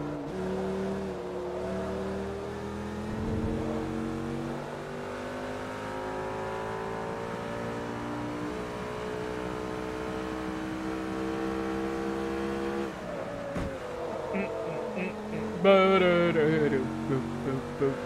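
A Lamborghini races in Forza Motorsport 3, its engine droning loud and continuous with pitch climbing and dropping through gear changes, then a sharper burst of revving and mechanical clatter near the end.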